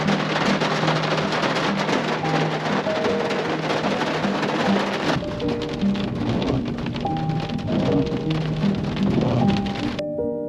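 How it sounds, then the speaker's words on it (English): Steady cold rain pours in a southern rainforest near a creek and small waterfall, a dense hiss of drops on surfaces with low rumbling, changing character midway as the rain keeps falling close and loud. "That's a cold rain."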